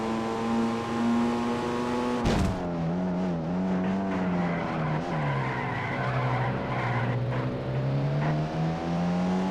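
Alfa Romeo race car in the video game Racing Italiano, its engine droning steadily with pitch rising and falling through gear changes, broken by a sharp burst and tire squeal early on; loud and continuous, no talk.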